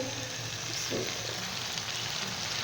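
Chicken frying with mashed tomatoes in a clay pot for biryani, a soft continuous sizzle up close with a faint stir partway through.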